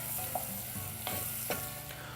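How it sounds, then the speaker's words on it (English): Chopped onion sautés in a pan over medium to high heat, giving a continuous close sizzle broken by a few quick stirring scrapes, with a low hum underneath. "Now saute up this onion until it's golden on medium to high heat."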